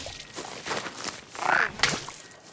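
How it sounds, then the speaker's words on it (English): Frogs croak in The Unfinished Swan near water, giving a few short, rough calls close by that rise and fall over a couple of seconds. "I hear frogs."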